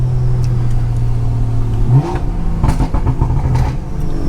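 A straight-piped BMW 340i holds a loud, steady idle drone, then is blipped into a sharp rev burst and several rapid throttle stabs, close and unmuffled.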